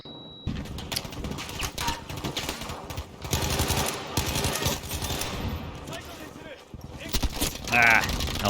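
Gunfire from Battlefield V on a jungle map in the Solomon Islands, rapid bursts of automatic weapon fire mixed with scattered shots and battle noise, loud and near at times, with someone talking over it.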